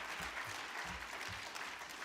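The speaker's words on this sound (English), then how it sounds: "Let's give the President a big round hand of applause." Applause from an audience at a national construction summit, a steady, dense clapping filling the whole moment at moderate loudness with no speech over it.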